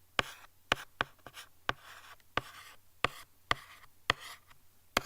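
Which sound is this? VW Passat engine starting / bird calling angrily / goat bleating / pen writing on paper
pen writing on paper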